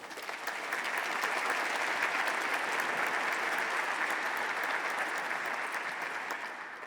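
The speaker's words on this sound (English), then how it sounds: "So maybe a round of applause for all those great co-hosts." Steady, sustained applause from a conference audience at an energy innovation summit opening session, a dense wash of many hands that swells in quickly and holds at a constant level for several seconds before easing slightly at the end.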